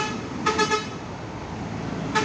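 Buses pulling into departure shelters at a busy bus terminal in the afternoon, low engine rumble throughout with two short horn toots near the start and another at the end.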